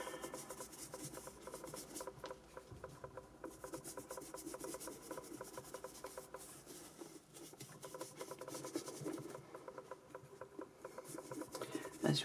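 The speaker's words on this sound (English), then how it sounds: "I rub my brush a lot. It helps to blend and to stain." A paintbrush rubs and scrubs acrylic paint over a reborn doll's face and neck to blend and stain, making a soft, continuous scratchy rasp that sounds close and quiet.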